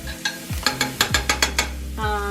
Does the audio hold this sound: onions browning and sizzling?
yes